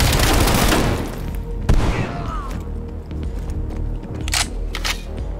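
In Call of Duty: Black Ops Cold War, a burst of gunfire fades into a weapon reload: sharp mechanical clicks and clacks, close and fairly loud, over a low rumbling game background.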